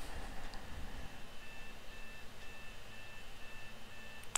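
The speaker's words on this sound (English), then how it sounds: "I can hear your alarm going off." An alarm beeps in a home in a series of thin, evenly spaced electronic tones that repeat with short gaps. It sounds faint and somewhat distant over a low background hum.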